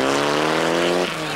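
Mitsubishi Group N rally car on a stage of the 1996 Rally Tour of Flanders in Belgium, a loud close engine howl with strong harmonic whine that drops sharply in pitch as it passes.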